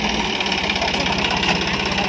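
The engine of a Sonalika tractor fitted with a turbo runs steadily nearby, giving a loud, even diesel throb with a fast pulsing beat and no talk.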